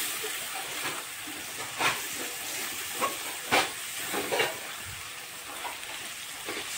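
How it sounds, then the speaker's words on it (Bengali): Ginger-garlic paste with chilli powder, turmeric and salt sautéing in a pan, a faint continuous hiss and sizzle with soft stirring scrapes and light taps recurring throughout. "এরপর ভালো করে কষবো।"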